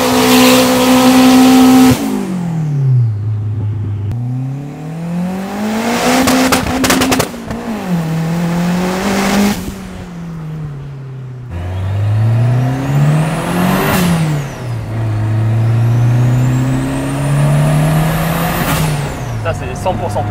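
Turbocharged Citroën Saxo VTS engine revving hard, repeated climbs and drops in pitch over about twenty seconds, loud and close, with sharp high-rev peaks and turbo whine.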